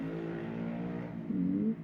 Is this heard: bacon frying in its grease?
no